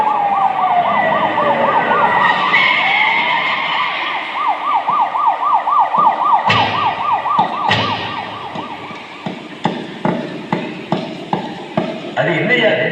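A police escort vehicle's siren wails in a fast rising-and-falling warble for several seconds, then gives way to a run of sharp knocks and clatters as voices talk nearby.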